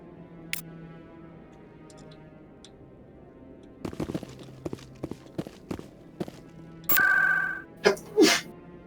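A single sharp sneeze from a game character in the Presidium of Mass Effect, bursting out near the end after scattered footsteps and ticking sounds over a quiet ambient hum.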